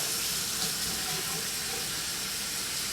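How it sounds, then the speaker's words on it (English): Warm water is splashed up onto a face at a sink, a steady close wash of running and splashing water with no talking. "I'll splash some of the water onto my face, trying to get this area dripping wet."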